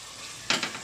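Chicken masala sizzles on low flame in a pan after salt is added, a quiet stretch giving way to a sudden burst of frying and stirring that fades into a softer crackle.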